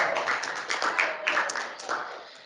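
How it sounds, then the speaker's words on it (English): Brief burst of audience applause at a restaurant-industry training meeting, dense clapping heard fairly close and fading over a couple of seconds. "You can applaud me now."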